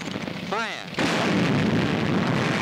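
A tank cannon fires in a wartime battle scene, one heavy blast with a roaring, rumbling aftermath that stays loud to the end, preceded by a brief whistling sweep.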